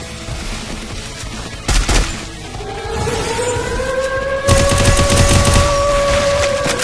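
Automatic MP40 submachine gun fire in the Free Fire zombie siege mode, a dense sustained burst of rapid shots building in the second half, with a steady tonal hum running beneath the gunfire.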